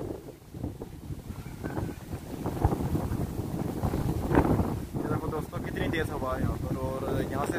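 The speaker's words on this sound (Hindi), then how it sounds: "ये देखो दोस्तों कितनी तेज़ हवा है," Strong gusting wind buffets the microphone during tropical storm Ma On under Signal No. 8, a steady loud roar with rustling bursts while someone talks over it throughout.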